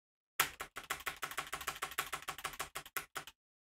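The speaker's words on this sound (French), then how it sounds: "je vais me taire et je vais frapper mon clavier comme un porc" Rapid, even clatter of keys being struck on a keyboard, about twenty sharp taps in three seconds, close and isolated against silence.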